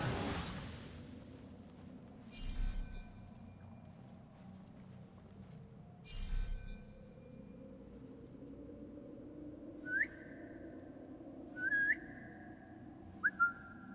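Three short rising whistles, each a quick upward-swooping note, come in the second half inside a stealth game, Assassin's Creed Mirage, used to lure enemies; earlier two soft rumbling thuds sound over a quiet ambient background.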